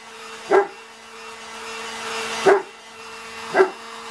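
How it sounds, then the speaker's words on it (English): Three deep, loud barks from a large English Mastiff, spaced irregularly over a few seconds, with a steady humming tone running underneath. "My dogs are having a fit behind me, so he's a big old English Mastiff, so he's kind of loud."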